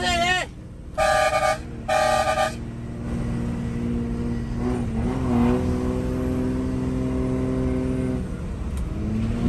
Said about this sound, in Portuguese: Buzina presa aí, hein?